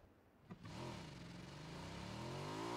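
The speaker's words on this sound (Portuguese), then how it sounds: "Ah, fugi com a moto do cara." A motorcycle engine in the PUBG video game starts up with a sharp burst, then settles into a steady, loud revving drone that slowly builds in pitch as the bike accelerates away. No talking.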